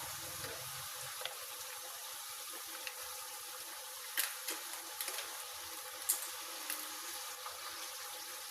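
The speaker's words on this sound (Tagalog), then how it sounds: "Lagay na rin natin yung gata." Coconut milk poured into a cooking pot for Filipino ginataang langka (jackfruit stewed in coconut milk), a steady soft liquid pouring and bubbling texture with a few faint clinks, no talking.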